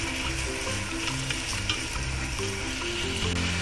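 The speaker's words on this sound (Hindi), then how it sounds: "इनको अच्छे से हम मिक्स करते जाएंगे।" Bottle gourd halwa with coconut and milk powder is stirred in a pan, giving a soft steady sizzle with faint scraping, quiet and close, with music playing underneath.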